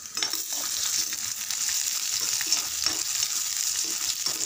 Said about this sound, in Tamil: சின்ன வெங்காயம் ப்ரௌன் கலரில் கோல்டன் ப்ரௌன் கலரில் ஃப்ரை ஆகணும்